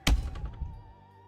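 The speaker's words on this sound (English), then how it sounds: "Like an aggressive knock." A loud, aggressive bang against a door hits at the very start, then a smaller follow-up thump comes as the sound fades under a quiet ambient tone.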